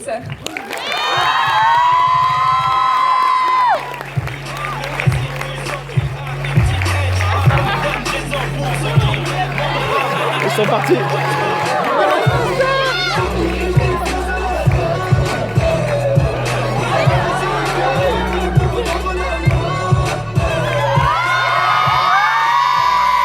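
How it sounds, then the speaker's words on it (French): A loud studio crowd cheers, whoops and shouts as comedian Kev Adams and William Ledgill make their entrance, a sustained roar over a pulsing low backing, with voices calling out through it. "merci d'accueillir sous un tonnerre d'applaudissements William Ledgill et Kev Adams"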